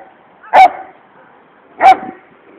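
Two sharp, loud barks from a nearby dog, spaced about a second apart, with quiet in between.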